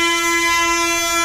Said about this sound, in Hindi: सामने से ट्रेन बाजा बजाती